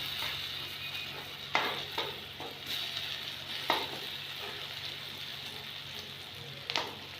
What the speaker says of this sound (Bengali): পাশে আদাটা ভেজে নিলাম